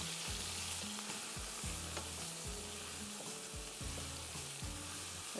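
Onions fry in a pan with a constant bright sizzle, while repeated rhythmic scraping strokes of stirring cut through it, steady and fairly close, with no talking.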